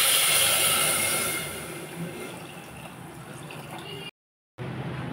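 Water poured into a pot of fried dal, a steady close rush of liquid that starts bright and loud, then settles into a softer, duller flow, broken by a brief cut.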